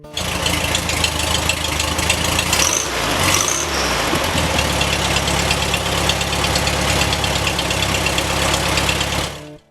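A rebuilt 1972 VW Super Beetle engine, fresh from break-in and not yet installed in the car, idles steadily and loudly, with an even, continuous rumble that holds for nearly ten seconds before cutting off.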